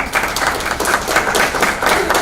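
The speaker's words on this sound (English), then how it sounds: "Give him a round of applause." An indoor audience at a technology talk breaks into applause, a dense, loud burst of many hands clapping that holds steady throughout the short stretch.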